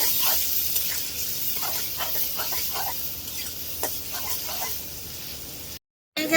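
Onion and green chili fry in oil with salt as the base for a pangas fish roe bhuna, a steady close sizzle broken by light spoon taps and stirring scrapes.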